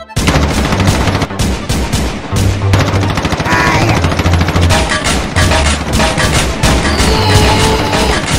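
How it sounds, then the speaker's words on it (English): Rapid bursts of gunfire from a gun in Roblox Brookhaven, loud, close and dense, with repeated shots and fast automatic volleys filling the whole stretch. "Forget it. I'll use a gun."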